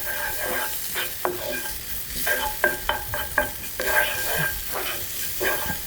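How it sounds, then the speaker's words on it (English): Tomato paste for peri peri chicken livers sizzles in a hot pan while being stirred, giving steady frying hiss with repeated scraping strokes of the utensil, close and fairly loud. "we're just gonna give that a bit of a stir through. You want to cook out the tomato paste."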